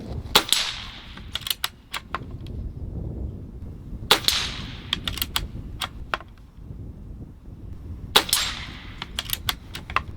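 Three sharp gunshots from a Barra 250z air rifle fired in a backyard plinking setup, each a loud close crack with a short tail, spaced about four seconds apart, with faint metallic target hits between.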